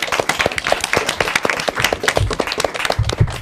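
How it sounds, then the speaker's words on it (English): Applause from the audience at an elementary school academic quiz competition, a dense patter of many hands clapping steadily throughout, fairly close and full. "Round of applause for yourselves for a job well done."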